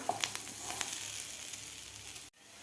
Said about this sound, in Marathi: मसाले घातल्यावरसुद्धा आपण एक मिनिटभर व्यवस्थित हे आलू फ्राय करून घेतलेले आहेत